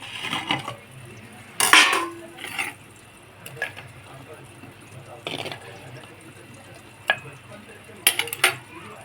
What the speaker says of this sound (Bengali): পোস্তাটা ফুটে গেছে এবার আমি ভেজে রাখা আলুগুলো দিয়ে দেবো